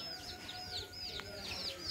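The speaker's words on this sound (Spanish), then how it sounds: "Otra gallina y sus polluelos." A hen with her chicks on a rural family farm, soft clucking and high peeping chirps repeating over a low background rumble, close and moderately quiet.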